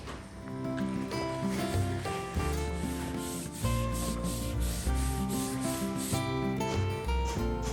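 Rhythmic back-and-forth scraping of sandpaper rubbed by hand over a mid-century teak dining table, repeated strokes, with background music playing underneath.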